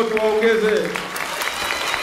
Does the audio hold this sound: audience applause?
yes